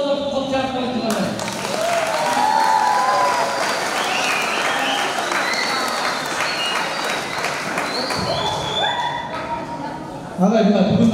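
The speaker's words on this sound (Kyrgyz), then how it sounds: "Дагы бир учуру болуп кол чаап коюңуздар." A crowd claps warmly at a ceremony honoring a district wrestling coach, a sustained wash of applause framed by a speaking voice at the start and end.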